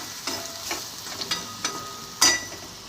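Potato curry with turmeric and masala stirred in a hot pan, a low sizzle punctuated by several distinct spoon scrapes and clacks, the last one loudest.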